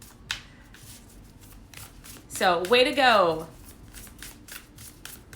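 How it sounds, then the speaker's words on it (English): Tarot cards being shuffled by hand, a soft riffling flutter under ongoing talk, with a brief loud burst of a rising and falling voice in the middle. "Again, only because I really like shuffling these cards."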